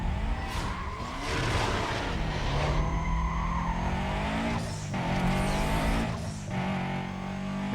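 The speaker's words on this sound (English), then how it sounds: "this time we are driving a Subaru Impreza" A Subaru Impreza races in Need for Speed: Most Wanted 2005 on PS2, its engine revving loud and continuous through gear shifts, with tyres squealing and skidding at moments along the way.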